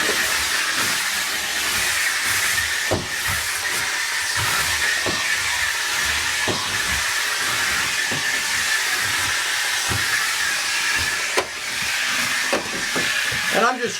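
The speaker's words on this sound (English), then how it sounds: "And I'm just using up the steam I have here." Steam cleaner hissing on a shop bathroom floor, a steady loud hiss that runs throughout, with scattered clicks and knocks from the work.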